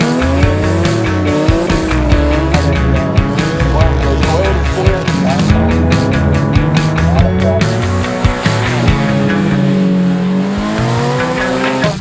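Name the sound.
rallycross cars racing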